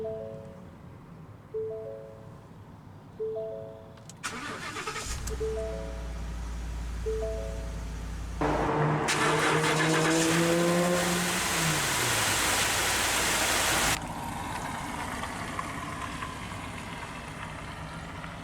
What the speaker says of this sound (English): let's go ahead and start the engine. This truck does have the 5-liter Coyote V8.